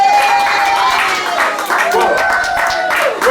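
A studio audience at a talk show applauds a guest introduced as Dr. Marcus Tappan, a steady, dense wash of clapping and crowd noise that holds at full level for several seconds with no break.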